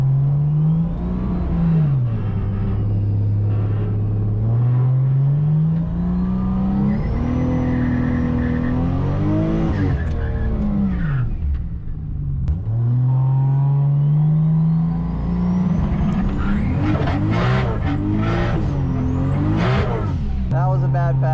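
Toyota Supra making a drag racing pass at the track, its engine droning loud and close, rising and dipping in pitch as revs climb, drop and surge again, with a whirring note on top.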